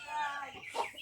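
Chickens around a house yard give a short, soft burst of clucking, faint and fairly distant, with no voices over them.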